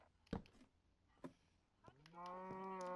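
A cow moos in the Minecraft video game, a rising harmonic call that holds steady to the end after a few short clicks and thumps, quiet overall with no talk over it.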